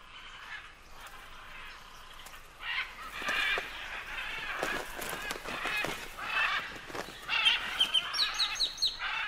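Macaws gather at a clay lick, loud harsh squawks and screeches overlapping in repeated bursts, close and raucous, with the calls thickening toward the end.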